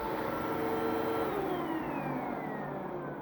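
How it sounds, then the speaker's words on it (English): A Hoover WindTunnel upright vacuum cleaner with a 12 amp motor runs steadily and loud at close range, its motor whine holding constant while a high tone slowly falls, with no talking. "that is the Hoover wind tunnel."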